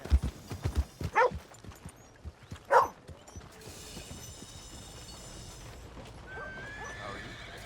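A horse in Red Dead Redemption 2 gives a sharp whinny among a few hoof clops and thumps, followed by quieter ambient game sounds, music-like tones and faint background activity.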